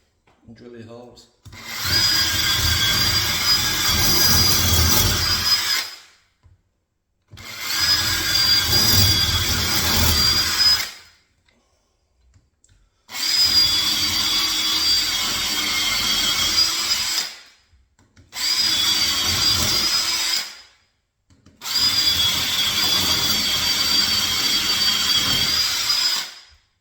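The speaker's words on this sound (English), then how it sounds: "And drill your holes." A power drill with a 5.5 mm bit bores holes into a wall for red plugs while hanging a radiator, giving five loud, close whining bursts of several seconds each, separated by short pauses.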